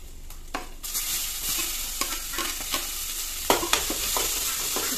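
Panch phoron whole spices sizzle and crackle in hot oil in a wok while fish curry with colocasia leaves is being made. A steady frying hiss runs throughout, broken by a few louder pops and stirring scrapes, and no one speaks.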